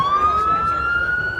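Police car siren at a car show, a loud, steady wail slowly climbing in pitch, close by and alone without talk.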